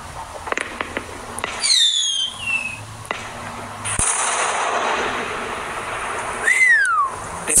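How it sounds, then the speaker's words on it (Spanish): A neighbour's firework rocket launches with rising whistling shrieks and a sharp pop, followed by a later second whistle, heard from a moderate distance over steady background noise. "Mira, el vecino va a lanzar su cohete."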